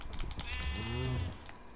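A Minecraft sheep lets out one drawn-out, quavering bleat that rises then falls, close and distinct over a faint low rumble, with no voices.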